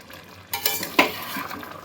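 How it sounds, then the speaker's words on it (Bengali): Chicken kosha cooking in a pan: a few sharp scraping stirs of a spatula against metal over a soft, steady sizzle, close and alone without talk. "চিকেন কষা চলছে"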